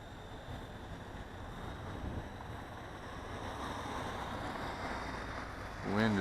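Steady outdoor wind blustering across the microphone while a small Syma F4 Assault quadcopter drone flies in a roughly 7 to 8 mph breeze, a constant broadband roar that swells slightly toward the end.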